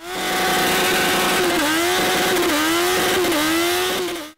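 Hayabusa-engined motorcycle doing a burnout, a loud sustained engine roar that holds a high, steady pitch and dips and climbs in repeated revving surges, alone and close for the whole stretch.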